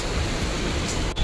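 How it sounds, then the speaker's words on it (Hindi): Heavy rain pours in a steady, dense wash of noise, close and loud throughout, with no voices. "ये देखो बारिश ही बारिश आ रही है, वो भी इतनी तेज़ आ रही है।"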